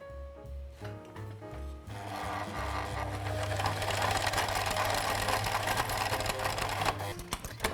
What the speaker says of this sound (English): I'm just going to try out my overlocking stitch to make sure that I've actually got all the right settings